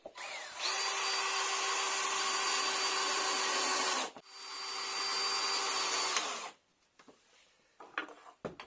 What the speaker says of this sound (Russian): внутри делаем лобзиком